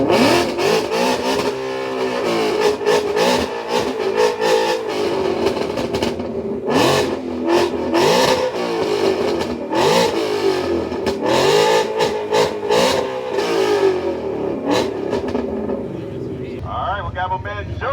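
A Ford Mustang at an exhaust and burnout competition at Daytona revs hard and repeatedly, loud and close, its exhaust roaring up and dropping back in bursts while a crowd and voices mix underneath.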